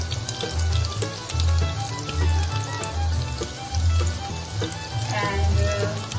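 Garlic and chili flakes fry in a pan with a continuous close sizzle and crackle, steady throughout with no voices.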